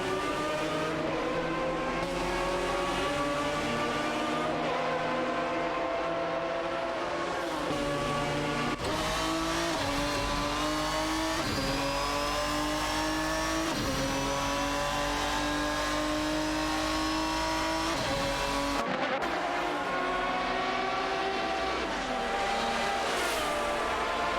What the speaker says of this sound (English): Surianbot is piloting a Paganese under GR, while Ferra023 commands an Aston Martin DBR9.